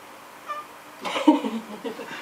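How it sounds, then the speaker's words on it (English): A faint, brief cat meow rises among soft rustling and a murmur in a quiet room. "I don't know if you heard a little meow."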